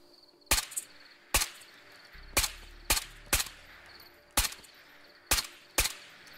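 Gunshots in the VR shooter Ghosts of Tabor during a nighttime island raid: eight sharp, loud single cracks at irregular intervals, some in quick pairs, over a quiet background of faint insect chirps.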